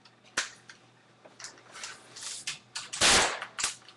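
Sharp pops from a laser-controlled airsoft turret, several separate shots at irregular intervals with one louder burst near the end, close by in a quiet room.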